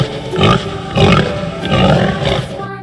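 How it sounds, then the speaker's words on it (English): Pig grunts inside a children's farm song, several short rough bursts about half a second apart, loud and close, set against the song's backing music. "Pig."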